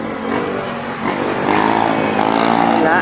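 A motorized tricycle engine buzzes past close by on a Philippine roadside, a loud, rising whine that swells and holds steady, with no talk over it.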